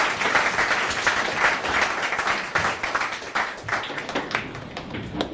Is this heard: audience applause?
yes